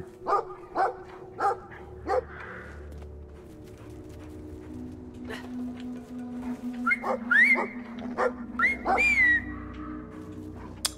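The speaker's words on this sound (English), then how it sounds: "Looks like we can get around the dog by distracting him." In Brothers: A Tale of Two Sons, a dog lets out a quick run of four sharp barks, pauses, then barks and yelps several more times in an irregular cluster over a quiet, low game ambience.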